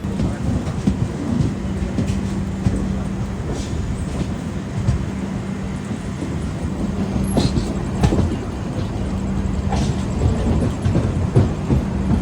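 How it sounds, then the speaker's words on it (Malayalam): Mangaluru–Rameswaram Express rolling slowly into Kozhikode station at night, a continuous rumble of carriages with rhythmic wheel clicks and occasional metallic clanks nearby. "15 മിനിറ്റ് ലേറ്റായിട്ട് നമ്മളങ്ങനെ കോഴിക്കോട് സ്റ്റേഷനിലേക്ക് കയറിക്കൊണ്ടിരിക്കുകയാണ് നമ്മുടെ മംഗലാപുരം രാമേശ്വരം എക്സ്പ്രസ്"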